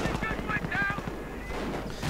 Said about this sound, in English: And the rifle grenades just keep on flying.